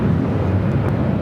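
An American airliner takes off from runway 25 right at LAX, giving a continuous loud, broad roar that stays steady throughout with no talking.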